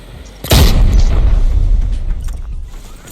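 A single loud, deep explosion of a grenade in the video game Arena Breakout bursts suddenly, then a heavy rumble lingers and slowly fades.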